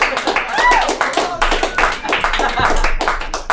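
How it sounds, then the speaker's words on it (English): Applause from a live comedy audience for a comedian, a dense wash of clapping with scattered whistles and cheers that swells and stays loud throughout. "Give a round of applause for John McCombs."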